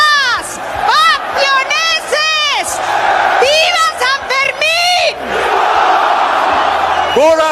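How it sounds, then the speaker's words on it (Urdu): A large crowd at a pro-Palestine rally in Spain chants and shouts slogans in loud rhythmic bursts, many voices rising and falling together, with continuous crowd noise between the chants. "عوام نعرے لگا رہی ہے"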